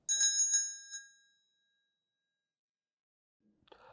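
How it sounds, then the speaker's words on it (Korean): A small bell rings in a short cluster of bright, clear dings that fade into silence. Faint sound stirs again near the end, all within an eerie ghost-story scene. "텀을 두고 울리는 종소리"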